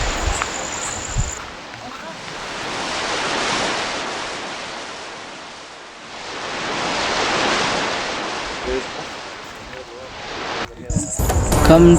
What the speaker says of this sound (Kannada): ಇದೇ ನೋಡ್ರಿ ದಬ್ದಬಿ ವಾಟರ್ ಫಾಲ್